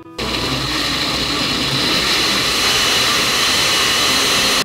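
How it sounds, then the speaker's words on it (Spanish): A blender grinds plums with water for a plum drink, a loud, steady, unbroken whirring roar running alone for the whole stretch after a brief start. "al vaso de la licuadora y vamos a moler"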